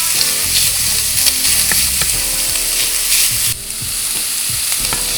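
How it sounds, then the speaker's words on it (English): Sausage browns in a hot pan with a loud, dense sizzle up close, crossed by occasional spatula scrapes, then the sizzle drops suddenly to a quieter steady frying. "brown this up and make sure it's nice and fully cooked"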